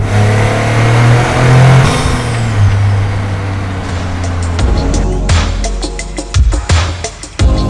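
A Toyota GR Corolla turbo hatchback on a test drive, its engine droning steadily then revving and easing off, followed by a series of sharp clicks and clunks near the end.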